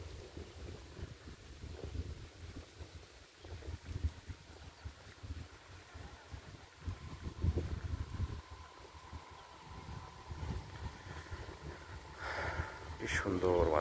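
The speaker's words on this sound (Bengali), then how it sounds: "দেখুন কি সুন্দর বাতাস," Wind gusts buffet the microphone in a village on a drizzly morning, a low, uneven rumble rising and falling throughout, with a thin rushing hiss above it.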